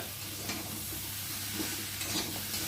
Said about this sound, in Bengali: ঝিঙে গুলো একটু মশলার সাথে নাড়িয়ে দেবো